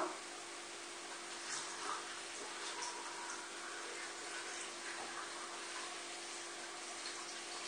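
Water pours steadily into a GM electric cooking pot while zucchini cream soup is being made, a continuous close splashing rush with no voices over it.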